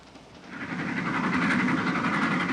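A 1940s passenger train carriage rattling along the rails, a continuous rumbling clatter that swells and holds steady, heard from inside with no talk over it.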